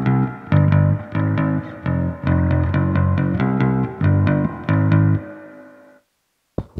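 A distorted bass played through a Boss RV-5 reverb pedal on its spring setting plays a steady run of chugging notes with a splashy reverb wash, then stops and rings out briefly before a short final pluck.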